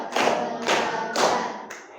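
Sharp, loud hand claps in a classroom fall in an even rhythm, three strong claps about half a second apart and then a fourth, each ringing briefly in the room.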